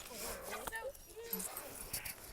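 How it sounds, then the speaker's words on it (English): A pregnant female dog barks and whimpers in short yips and whines close by while a person talks over her. "He keeps barking."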